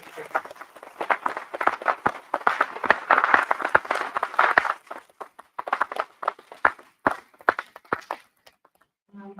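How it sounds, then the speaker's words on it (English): Audience applause at a sports awards evening in a school hall, a burst of claps that thins into scattered, sharp individual hand claps and trails off toward silence. "A round of applause for Laura."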